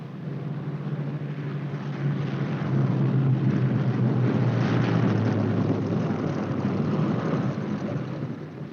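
Boeing B-17 Flying Fortress bomber arriving at an airfield with its left inboard engine dead, a loud, steady low droning roar of piston engines that swells after two seconds and holds, with no voices.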